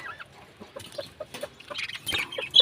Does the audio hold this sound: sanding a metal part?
no